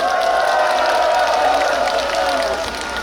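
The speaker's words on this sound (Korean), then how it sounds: "다시 한번 큰 박수 부탁드리겠습니다." A large outdoor crowd at a Suncheon political rally for presidential candidate Lee Jae-myung claps and cheers in a dense, steady roar that holds at an even, loud level for the whole stretch.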